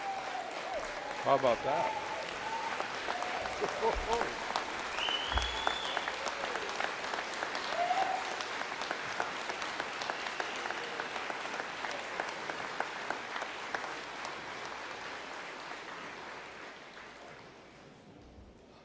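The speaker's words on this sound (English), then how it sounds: "whoa, a standing ovation" A crowd gives a standing ovation at the 2010 Salish Kootenai College graduation, with sustained, dense applause that fills the hall and slowly fades toward the end, while a speaker's voice comes through over it.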